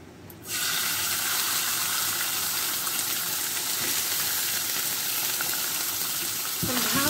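Ingredients frying in hot oil until crispy give a loud, steady sizzle that starts abruptly and hisses without a break, with a brief clink near the end.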